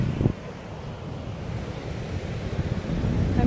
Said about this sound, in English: So yeah, we are at the beach.